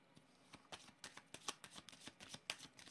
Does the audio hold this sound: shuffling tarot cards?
yes